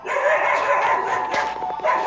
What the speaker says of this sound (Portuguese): É a Mel que tá latindo, tá, gente? Ali no portão